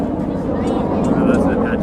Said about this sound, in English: Oh, that's an Apache.